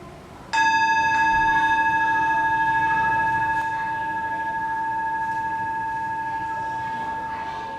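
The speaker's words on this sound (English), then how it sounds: "Today, we can try to invite the bell." A single clear mindfulness bell strike rings out with a pure, sustained tone that slowly fades over several seconds, alone in a quiet room.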